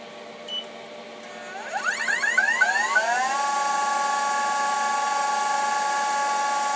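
A Denford Orac CNC lathe turns a V8 cylinder at 830 RPM, rising through a whining sweep before settling into a steady, sustained high tonal hum, fairly loud and alone.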